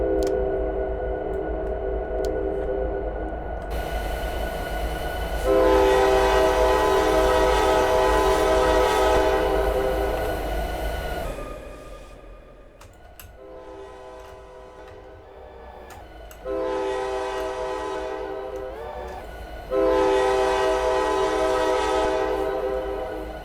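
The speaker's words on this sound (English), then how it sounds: "That's not the worst horn sound in the world." Train horn in a video game sounding in several long sustained blasts of varying length, loud and close over a steady low rumble, with short pauses between them.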